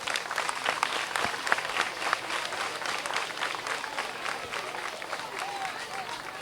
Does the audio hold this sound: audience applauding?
yes